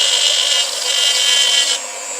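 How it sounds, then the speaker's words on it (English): A Dremel rotary tool grinds an angled bevel onto the edge of a copper and wood ring, a steady high-pitched whine and rasp that dips slightly near the end, up close with no talking. "with the Dremel, I'm putting an angle on that edge"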